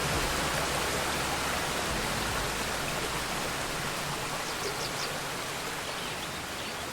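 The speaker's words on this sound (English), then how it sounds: "These gushing waters flow throughout the national park and shape the green and lush ecosystems" Gushing stream water flows through lush forest in Arusha National Park, Tanzania, a steady, dense rushing wash that holds constant throughout, close and fairly loud.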